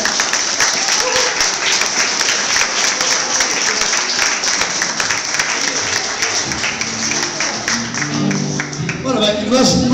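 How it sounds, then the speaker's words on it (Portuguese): Loud, sustained applause from a crowd at an outdoor autumn chestnut gathering, welcoming a youth music group; brisk clapping fills the space, and near the end instruments begin tuning or playing faintly beneath it. "Queria pedir uma grande salva de palmas para eles e para as suas belas músicas."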